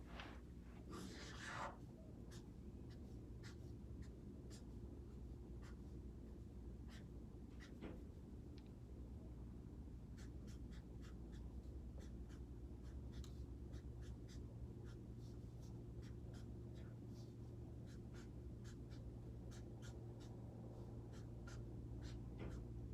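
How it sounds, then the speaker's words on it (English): A marker squeaks and scratches across a board as a sun and snowflakes are drawn, quiet strokes coming in short bursts over a low steady room hum. "I'm just actually gonna draw a sun, and I'm going to draw like some snowflakes"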